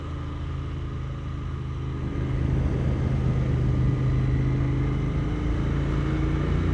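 Royal Enfield Continental GT650 motorcycle riding along a road, its twin-cylinder engine giving a steady low rumble with broadband wind and road noise that swells slightly partway through, continuous and close, with no talking.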